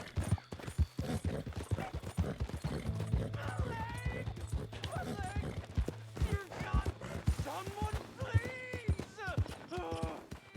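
Rapid hoofbeats clatter in a steady galloping rhythm in Red Dead Redemption, with a horse whinnying and someone talking over them.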